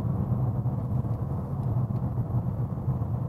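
Steady low engine and road rumble inside a Porsche Panamera Turbo on the move, a dense continuous drone with no talk over it.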